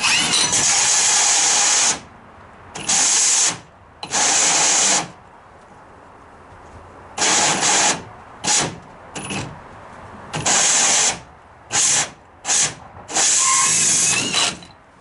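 A power drill cuts a large hole through a 3D printer enclosure panel, running in loud, harsh bursts of whirring and grinding that start and stop about eight times, separated by quiet pauses.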